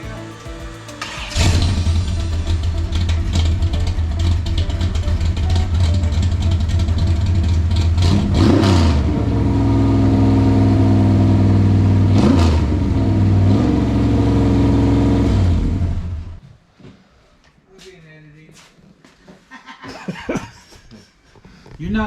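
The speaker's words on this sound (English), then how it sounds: "Oh, you gotta turn the idle up." A racing engine with its idle turned up roars steadily and loud for about fifteen seconds, with a couple of sharper revs rising above the drone, then cuts off, leaving quiet room noise and faint voices.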